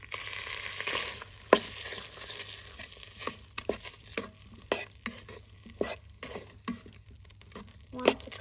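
Sausages frying in a pan make a soft, continuous sizzle, broken by regular sharp clicks and scrapes of a utensil on the pan, close and fairly quiet throughout, with no talking.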